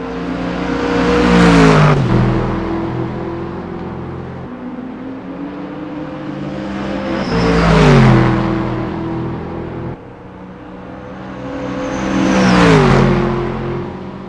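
GT race cars in a virtual 24 Hours of Daytona endurance race sweep past one after another, engines rising to a loud roar and then dropping in pitch as each car passes, three distinct passes with no talk.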